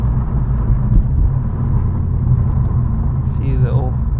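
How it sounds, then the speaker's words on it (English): Interior engine rumble of a Mini JCW at night as it changes down a gear, a low steady drone heard from inside the cabin with a brief rise in pitch near the end. "Changing down from gear."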